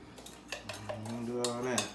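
A utensil stirs in a pan with a few quick metallic clinks and scrapes, while a soft tonal hum runs underneath.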